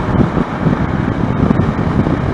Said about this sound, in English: you'll get gusts that really hit